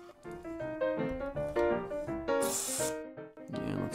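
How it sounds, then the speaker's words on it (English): A short hiss of cleaner is sprayed onto a part of a Kenwood KA-76 amplifier, a single burst of about half a second rising amid continuous voiced sound. "Another spray of the cleaner."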